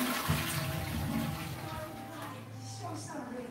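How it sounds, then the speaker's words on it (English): A toilet flushes in a steady, loud rush of water that fills the whole clip and tapers slightly near the end, with no voices over it. "That was me flushing you down the toilet."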